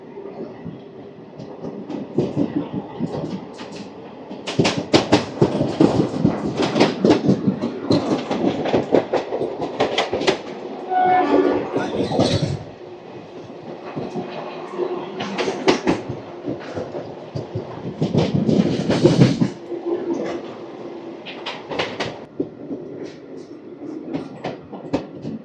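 Tirupati–Kakinada Town Express 17249 rolling toward Anaparthi station: a steady close rumble with loud bursts of wheel clatter, surging and fading, and a brief metallic wheel squeal midway, with no voices.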